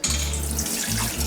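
Cold tap water runs from a kitchen faucet during rinsing, a short close rush of splashing water over a low steady hum.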